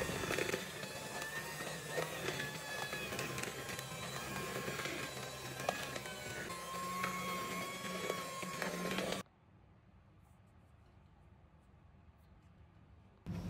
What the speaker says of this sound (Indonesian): Terus ini kita mixer lagi sebentar hingga semuanya benar-benar tercampur rata.